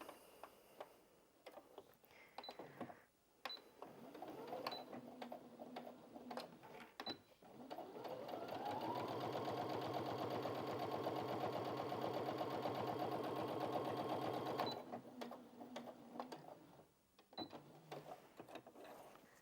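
A Brother Innov-is A50 sewing machine stitches through folded denim in a steady, loud mechanical run of about six seconds, preceded and followed by shorter bursts and handwheel clicks, with no talk.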